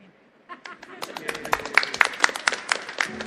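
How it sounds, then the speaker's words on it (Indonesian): Scattered, uneven clapping from a church congregation during a sermon, starting sparse and building into a modest patter of claps that never quite swells into full applause. "Tepuk tangannya ragu-ragu."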